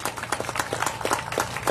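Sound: audience applause at chamber of commerce grand opening

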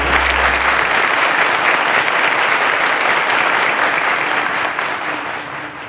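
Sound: applause

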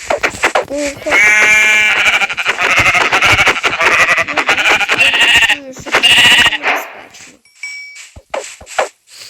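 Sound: sheep bleating in video game

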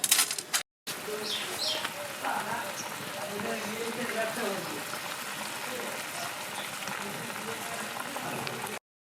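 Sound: shukto vegetable curry boiling in pot

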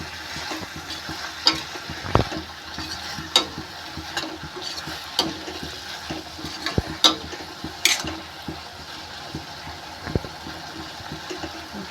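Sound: stirring vegetable curry in a pan

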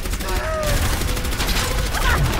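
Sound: turret firing in the video game Overwatch

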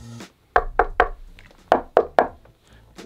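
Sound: knuckles knocking on speaker cabinet

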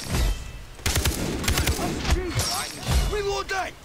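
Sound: gunfire in the video game Far Cry

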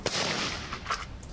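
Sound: gunfire from civilians' shooting practice

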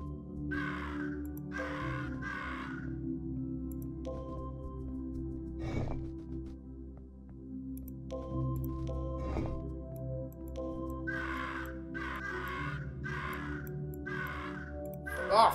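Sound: crow people cawing in Monument Valley video game

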